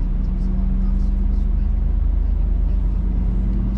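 A steady low engine rumble from a car driving toward a parking lot in Germany, continuous and close, with someone talking over it.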